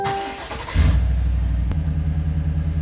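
A 2021-or-later Chevrolet Tahoe, GMC Yukon or Cadillac Escalade engine cranks and fires after a short whir, then settles into a steady low idle rumble, close and loud with no one speaking.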